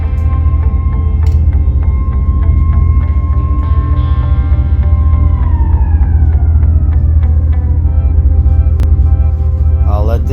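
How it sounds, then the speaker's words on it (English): A siren wailing at a river lock on the Tennessee River, a long tone that holds, then slides down in pitch, over a loud, steady engine rumble, with scattered clicks and faint talk. "There goes the siren."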